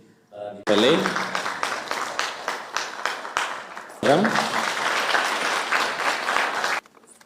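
An audience at a State House meeting of governors' spouses bursts into sustained applause in two waves of rhythmic clapping, loud and close, with a voice speaking over it.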